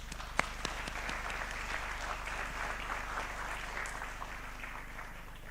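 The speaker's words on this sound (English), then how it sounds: "So a round of applause for that." A graduation crowd at a Class of 2025 ceremony applauds steadily, a dense even wash of many hands clapping for several seconds, heard from a distance and fairly soft, with a couple of sharper claps near the start.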